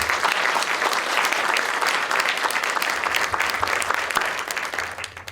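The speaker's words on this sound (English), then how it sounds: "could we just give a big round of applause for these two?" An audience at a Karen cultural presentation bursts into loud, sustained applause, many hands clapping densely and steadily for several seconds before tapering slightly at the end.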